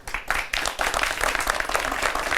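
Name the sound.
audience applause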